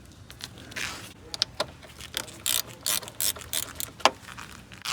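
A wrench loosening car battery terminals gives quiet, close metallic clicks and ratcheting bursts in an irregular rhythm, with brief scraping between turns.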